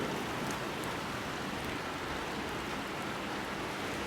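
Rain falls in a dense, steady hiss on a flood-prone property, with scattered louder drops and no voices.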